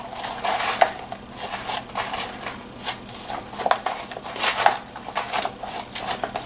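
Grapes being tossed by hand in a bowl to coat them, giving soft, irregular clinks and rustles of fruit against the bowl, close and moderately loud with no voice.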